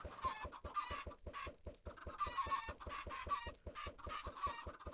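Chickens in the Minecraft video game cluck in a steady, repeated rhythm, several overlapping calls at moderate volume with no voices.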